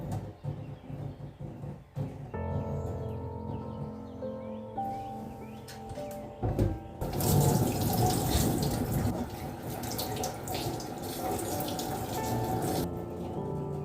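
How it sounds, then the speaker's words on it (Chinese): Water from a hose inserted through a cut in a freshly bled spangled perch's gill runs and splashes continuously under a cloth, close by. The flow swells louder midway amid faint clinks and drips. "从鱼鳃这里刚刚割开的洞插进水管，开水之前用布先盖一下，不然水会到处喷"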